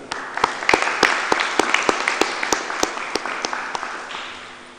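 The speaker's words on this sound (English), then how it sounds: "A round of applause to Ms. Priya." An audience at a Grade 12 IB Diploma graduation ceremony applauds steadily for five seconds, a dense wash of claps with sharp individual hand strikes, fairly loud and sustained with no talk over it.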